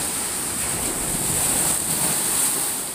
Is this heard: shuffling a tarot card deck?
no